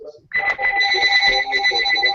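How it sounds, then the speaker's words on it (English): A phone rings with a bright, repeating electronic ringtone that cuts in sharply and keeps going, fairly loud and close, over a quiet room during a tabletop role-playing session. "The phone rings, of course."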